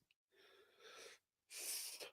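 Two sneezes from a man, the first a softer build-up and the second a sharp, loud burst, close to the listener with brief silence between them.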